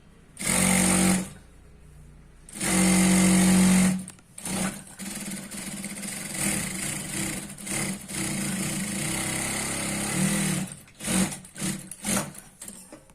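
A sewing machine stitching churidar pants runs in short loud bursts, then a longer steady whirring stretch with stops and restarts, close by with no talk.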